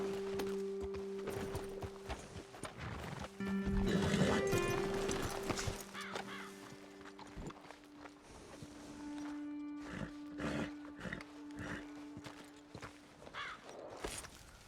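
Horses in the Red Dead Redemption 2 video game, with clip-clopping hooves and an occasional snort or whinny over an outdoor ambience and a steady drone, moderately loud, with no talk.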